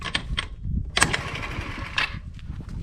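A Chinese 125cc scooter engine starts with sharp cranking bursts and then settles into a rough, close-up idle with uneven puttering pulses.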